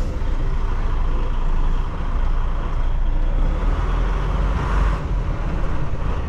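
A semi truck backing up a trailer: steady loud diesel engine rumble close by, with a brief hiss like an air brake release near the end.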